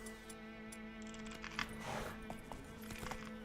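Roach, a horse in The Witcher 3, clip-clops at a gallop in a steady rhythm beneath game music and ambient tones, moderately near and not very loud.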